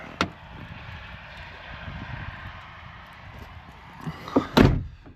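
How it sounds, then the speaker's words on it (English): A van's door opening during a snowstorm: a sharp click at the start, then a quiet stretch with steady wind outside, and near the end a loud sliding rumble with a thud. "Let me open the door."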